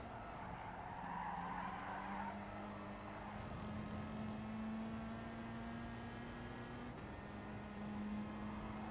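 Race cars on hard tyres in a short seven-lap sprint race in a racing video game, with a continuous engine drone whose pitch slowly climbs and tyre scrub layered on top, steady and unbroken throughout.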